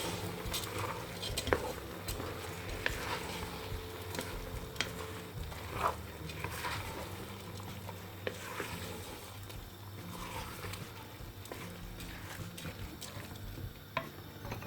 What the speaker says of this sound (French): Et là, on va tout mélanger.